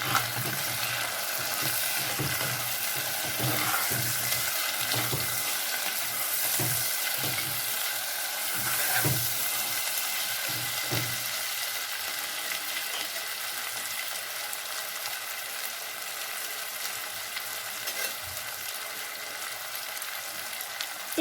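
Chopped tomato fries in a pan for vada curry, with a steady, close, loud sizzle throughout and some stirring scrapes early on.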